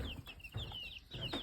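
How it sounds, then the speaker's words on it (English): Young backyard chicks cluck and peep close by, with soft low clucks and scattered high, thin chirps repeating in quick irregular bursts and no talking. "We have chickens."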